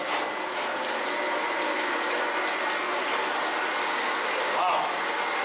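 Seawater streaming in through holes in the bilge of a museum naval ship, a steady close rushing hiss that stays constant throughout, with faint voices underneath.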